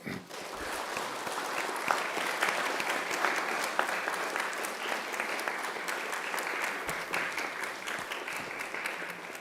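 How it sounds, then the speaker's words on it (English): University graduates at a graduation ceremony applaud their family and friends in a sustained, even round of clapping that fills a large hall, steady throughout with no break. "I invite you to give them a mighty round of applause."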